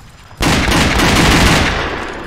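Sudden loud burst of rapid gunfire in a video game about a bank robbery, starting abruptly and sustaining a dense crackling roar before tapering slightly, with no talking.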